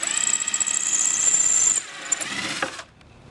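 An inexpensive power drill runs with its clutch engaged, a loud high-pitched whirring motor sound that cuts off abruptly, restarts briefly with a slipping grind, then stops into near silence.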